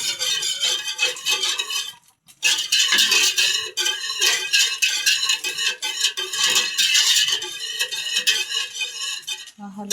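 Stirring food in a cooking pot: continuous bright scraping and clinking of a utensil against the pot, close and steady, with a brief pause near the start and no talk.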